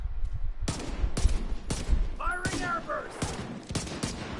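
Rapid gunfire in the video game The Division 2 cracks out in close, sharp bursts of shots, with a brief ringing tone partway through.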